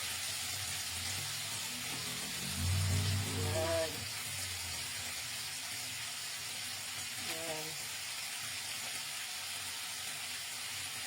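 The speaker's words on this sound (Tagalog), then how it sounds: "Mura na siya kaprito sa sarili niyang mantika" Low-carb home-cooked food frying in its own rendered oil makes a steady, soft sizzle and hiss, fairly quiet and continuous, with a brief low voice passing over it partway through.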